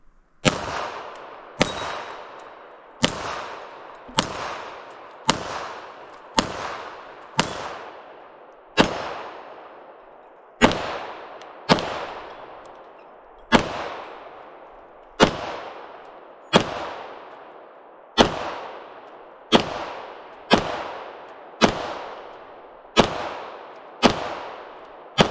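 Pistol shots from an Alien handgun fired at a range, about twenty sharp, loud cracks at a slightly uneven pace, each with a short ringing tail and no talk between them.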